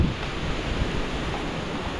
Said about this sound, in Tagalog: Napakalakas ng hangin oh.